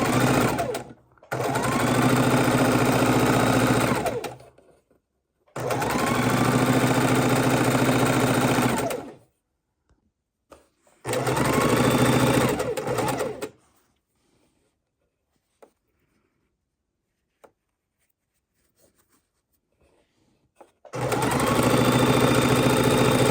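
A sewing machine stitches seams of quilt fabric in three loud, steady runs of rapid mechanical whirring, then falls quiet for several seconds with a few faint clicks before starting again.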